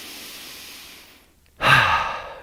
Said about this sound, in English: deep, relaxing breath.